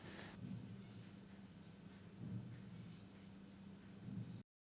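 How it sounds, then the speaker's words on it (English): Four short, evenly spaced electronic beeps from an insulin patch pump, about one second apart, over a low background hum. "The patch pump will beep 4 times."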